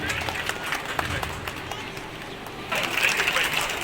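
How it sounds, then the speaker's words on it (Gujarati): Applause from a gathered audience at a Gujarati religious katha event welcoming an honoured guest, steady clapping that swells louder in the final second, with some voices mixed in. "આપણે તાળીઓથી વધાવીએ."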